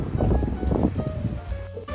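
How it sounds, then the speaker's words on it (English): Strong wind blowing outdoors on a walk to a store, a steady low buffeting rumble pressing against the microphone throughout the short stretch with no speech. "It is very windy out today"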